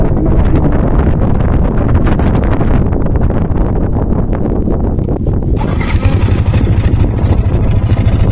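Loud, steady Yamaha Sniper 155 motorcycle engine running close by with a rough, rattling mechanical clatter from a loose tensioner and some wind buffeting the microphone.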